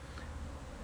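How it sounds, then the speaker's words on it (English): Bees gathering pollen on an Epiphyllum orchid cactus make a faint continuous buzzing hum, low and steady, over a brief moment. "it's just a small video of the bees gathering pollen"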